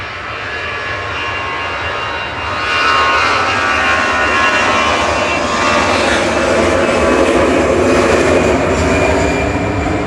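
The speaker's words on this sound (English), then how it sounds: "And lining up to go now is EasyJet." Loud, continuous jet engine roar from an EasyJet plane lining up and taking off at Manchester Airport, heard from a distance as the rumble swells and holds steady.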